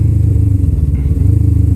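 An A2-licence motorcycle engine runs loud and close while riding, with a steady pulsing low drone that holds throughout.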